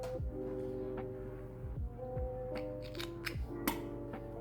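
Scissors snip through crochet yarn while finishing a small crocheted Frankenstein figure in a swing, giving a few short, soft cuts close by over a quiet room hum.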